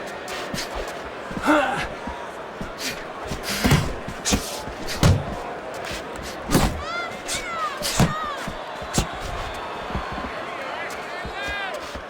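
Boxing punches in the Fight Night Champion video game, sharp thudding impacts landing and being blocked at irregular intervals, mixed with crowd noise and a commentator talking throughout.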